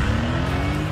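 Engine of a 2018 Mercedes-AMG GT Roadster, a steady, loud, close roar that holds continuously without any talk over it.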